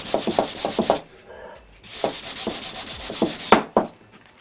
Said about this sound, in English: Seems to sand pretty nicely too.